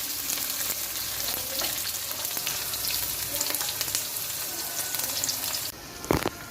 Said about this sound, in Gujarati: હવે નાખી દઈશું લીલી ડુંગળી સમારીને મૂકી હતી એ નાખી દીધી મેં અને આને પણ આપણે સરસ સાંતળી લઈશું।